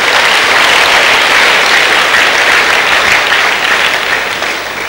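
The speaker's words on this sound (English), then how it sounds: "Give him one more clap off from somebody." Loud, sustained applause from a church congregation at a Wednesday service, cheering on a minister; dense clapping fills the whole stretch and eases slightly toward the end.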